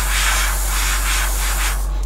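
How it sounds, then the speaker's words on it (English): Spray paint can hissing in short, light passes onto a scale model, several bursts in a steady sequence, close and loud over a low electrical hum, ending abruptly. "And I'm just going to nicely spray it, nice and light."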